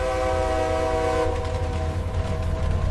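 A heavy freight train rolls over newly made steel rail track, a loud continuous rumble with a sustained horn-like tonal drone, steady and close throughout.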